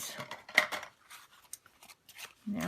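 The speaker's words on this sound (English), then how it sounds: "Now I'm just going to trim the paper." Scissors snipping through paper in several short, close cuts, with quiet gaps between strokes and a louder cluster of cuts near the middle.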